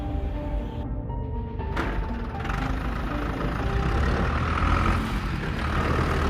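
A cartoon monster truck carrying three characters drives off, its heavy engine rumbling steadily with a brief hiss near the start, the sound holding loud and close with no talking.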